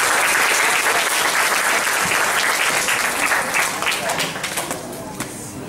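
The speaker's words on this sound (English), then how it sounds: "let's give a big round of applause to Meghan" Seminar audience applauding after an academic talk, a dense, steady wash of many hands clapping close and loud for several seconds, gradually thinning and fading toward the end.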